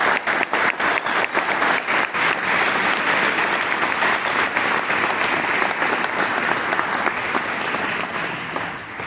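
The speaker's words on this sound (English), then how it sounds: "give a big round of applause to the amazing SWOT team" A conference audience at an AI summit breaks into loud, sustained applause, dense clapping from a large crowd that holds steady for several seconds and eases slightly toward the end.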